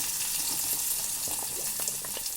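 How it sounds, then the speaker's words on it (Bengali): Small-cut potatoes and pumpkin frying in oil with tempering spices for a sajne-flower pumpkin chachchari, a steady soft sizzle with a few light stirring clinks throughout. "ফোড়নের মধ্যে দিয়ে দিচ্ছি কেটে রাখা ছোট করে আলু কয়েকটা আর কুমড়োটা আর আলুটা আমি ভেজে নিচ্ছি।"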